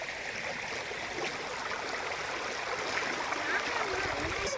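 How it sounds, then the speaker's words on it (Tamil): Steady rushing of a flowing stream, a continuous broadband wash of water close by, with no talking. "தண்ணியோட சத்தம் கேட்டீங்களா?"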